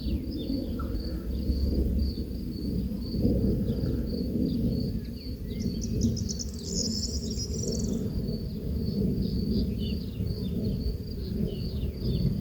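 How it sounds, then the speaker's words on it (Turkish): Scout honeybees enter and leave a bucket swarm trap, making a steady, dense buzzing that runs through the whole stretch, with faint high insect-like chirps above it and no voices. "Bunlar keşifçi arılar."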